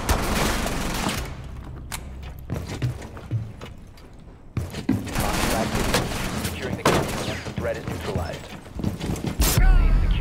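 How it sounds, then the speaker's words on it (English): Rapid gunfire bursts from Rainbow Six Siege gameplay, with a shield-carrying operator under fire, crackle loudly through most of the stretch, broken by short lulls, with excited voices talking over the shooting. "She just shot you through your shield."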